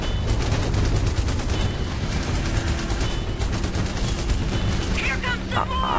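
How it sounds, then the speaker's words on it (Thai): Rapid, continuous gunfire from a vehicle-mounted gun in the PC video game Terminator Salvation, loud and dense with booming bursts throughout, with no pauses. "กระสุนไม่จำกัดนะครับบนรถนี่แต่ว่าต้องระวังปืนร้อนนะครับ"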